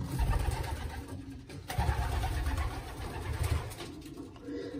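Pigeons coo in a loft compartment, soft throaty calls repeating over a steady background rumble, with no voices.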